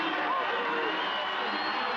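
A crowd roars at the men's K1 200 m canoe sprint final of a 2021 World Cup and Olympic qualifier. The broad, steady wash of noise runs unbroken, and a commentator's voice can be heard over it.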